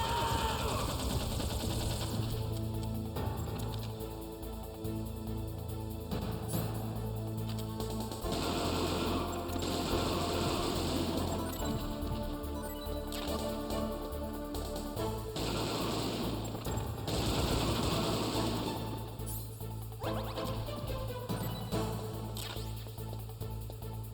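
Gunfire in the Metal Gear Solid video game, rapid bursts of automatic shots and crashes layered over dense game music and effects, loud and continuous.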